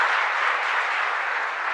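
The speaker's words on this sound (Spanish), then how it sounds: "Fuerte aplauso entonces para nuestra comunidad" Brief, dense burst of congregational applause for a parish community during a Catholic Mass, an even wash of many hands clapping without pause.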